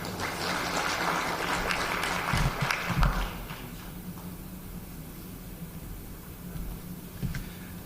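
Applause from the audience at the Botswana Stock Exchange mentorship graduation ceremony, fairly dense at first, then fading into a quiet murmuring room with a few stray claps.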